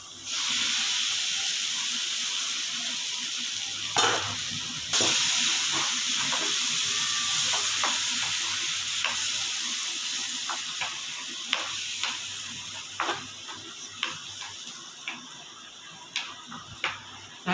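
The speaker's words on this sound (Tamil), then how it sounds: "பச்சை வாடை போகிற அளவுக்கு தக்காளியை நல்லா வதக்கிக்கலாம்" Tomato sauce and paste sautéing in a pan for roadside cabbage kalaan, a hissing sizzle overlaid with sharp ticking spatula taps that grow sparser and quieter as the sizzle gradually fades.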